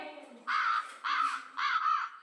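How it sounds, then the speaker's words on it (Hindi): A recording of a crow plays three harsh caws in even succession, each about a quarter second long, clear and close, with a faint voice briefly beneath at the start. "इंग्लिश में क्रो।"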